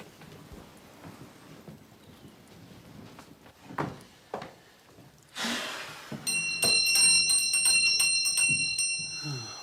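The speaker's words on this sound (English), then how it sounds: "Would you be good enough to pull the bell for me?" A household bell rung with a bell pull, sounded indoors: a few soft knocks and thuds give way to a bright, sustained jangle of ringing tones that fills the last few seconds.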